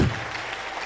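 Audience applause for sponsor EcoBank at a Springboard Road Show event, a brief, fairly soft patter of clapping that holds steady through the short moment.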